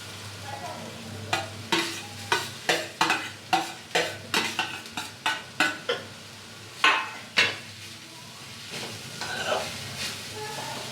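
Cooked rice is stirred with carrots in a hot pan, with a spatula scraping and clinking against the pan in a quick series of sharp strokes over a light sizzle, then quieter frying to finish.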